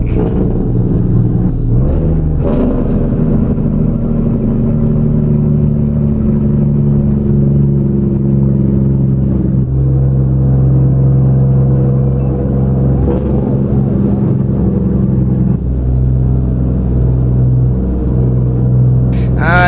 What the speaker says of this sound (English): We're using Creechbomb's engines today, and then we do have the sound pack.